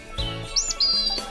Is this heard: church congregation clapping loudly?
no